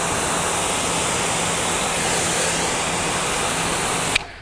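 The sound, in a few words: water rinsing car soap off car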